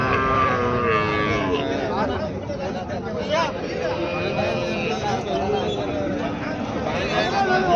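Cattle moo repeatedly at the Erode Karungalpalayam cattle market, with several lowing calls rising over a steady crowd babble and people talking nearby.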